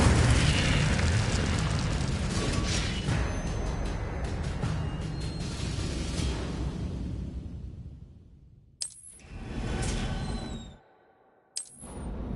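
Incendio fire spell from Hogwarts Legacy: a loud, sustained roaring whoosh of flame and blast that fades out, followed by a couple of sharp bursts and a brief crackling flare.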